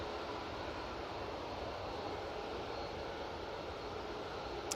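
An EasyJet Airbus A319 arriving from Belfast at Manchester Airport makes a faint, steady distant jet rumble, a low continuous wash of engine noise without clear peaks.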